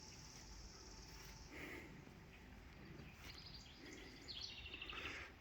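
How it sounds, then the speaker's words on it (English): Birds sing in woods along a nature-preserve trail, with a few faint chirps and short trills over steady background noise. "Hear the birds."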